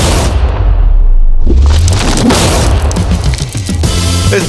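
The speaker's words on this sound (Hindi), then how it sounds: "इस धमाके ने सच में मुझे डरा दिया।" A hard-wired TNT charge blows apart a steel safe with an egg inside. A loud, deep boom with a crackling burst fills the clip, followed by rumbling and scattered debris noise as it fades, with no talking.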